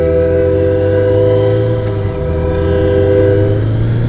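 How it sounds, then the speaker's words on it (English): A train passes nearby, its horn sounding with steady layered tones over a constant low rumble of rail cars, loud and continuous throughout. "Oh, cool, a train."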